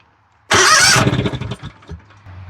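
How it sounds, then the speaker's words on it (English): A John Deere engine cranks over, bursting in loud and close, then chugging and sputtering for about a second and a half before trailing off into a low hum. "let's crank it over and see if we're getting any juice come out of there"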